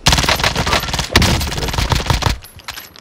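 Rapid automatic fire from a MAC-10 submachine gun in a video game, a dense, loud stream of shots running almost continuously for about two and a half seconds before cutting off.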